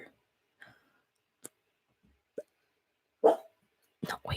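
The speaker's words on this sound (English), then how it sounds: "My dog is about to bark." A dog gives several short, sharp barks spaced irregularly, with louder bursts toward the end, in an otherwise quiet room.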